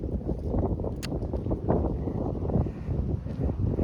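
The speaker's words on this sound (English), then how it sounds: "It is getting windy." Gusty wind buffeting the microphone on a hiking trail in Warden Woods Park, a loud continuous low roar and rumble that swells and eases without letup, with no talk over it.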